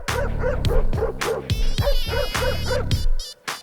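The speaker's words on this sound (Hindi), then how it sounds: "इस घर में एक कुत्ता है।" A dog in a comedy movie scene barks in repeated sharp yips and bow-wows, loud and close, with whimpering tones between barks and a brief pause near the end.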